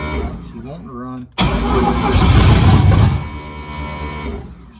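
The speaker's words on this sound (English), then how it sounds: "We're gonna spin it over and see if we can't crank it up." A race car engine being cranked over, then catching and roaring to life loudly up close before settling toward a rough idle, with a voice heard briefly at the start.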